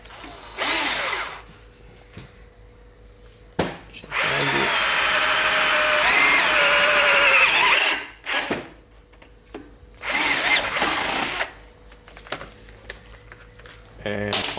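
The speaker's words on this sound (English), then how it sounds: "with these cordless drills it can be difficult to get the drill bit gripped tightly enough" Cordless drill boring through metal parts during a BMW F650GS motorcycle fork upgrade, with long whirring bursts of drilling between quieter pauses and short starts and stops.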